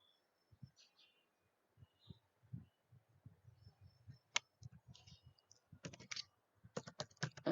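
Typing a program on a computer keyboard: quiet, irregular key clicks and taps, sparse at first and then denser in quick bursts, close and faint with no talking.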